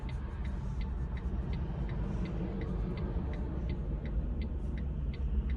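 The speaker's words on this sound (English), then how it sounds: "We got a lot of traffic coming." Road traffic passing on a street in Valdosta, Lowndes County, Georgia, heard from inside a moving car as a constant loud engine and road rumble with a faint repeating tick.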